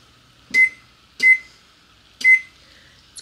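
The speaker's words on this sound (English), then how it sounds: "Let's go ahead and set the timer on the stove for 6 minutes." A stove's electronic timer beeps while being set for a cooking session, three short bright tones spaced about a second apart, close and clear over a quiet kitchen hum, with no talking.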